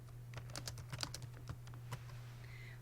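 Quiet, quick clicking of fingers typing on a computer keyboard: an irregular run of light key taps over a steady low electrical hum.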